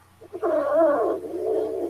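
A cat lets out a single loud, drawn-out yowl that wavers in pitch and then trails off into a lower moan, close by and with no talking.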